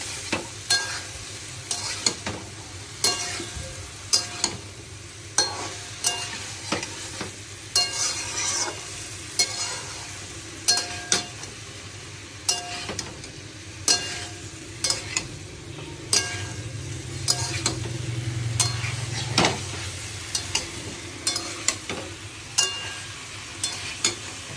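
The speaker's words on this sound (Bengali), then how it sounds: "মশলাটা কষা কষা হয়ে এই সুন্দর লঙ্কা ফোড়ন দিয়েছি।" Vegetable curry spice paste with chillies fries in a pan for a Bengali vegetarian dish, a soft steady sizzle broken by repeated scraping stirring strokes every second or two, close by.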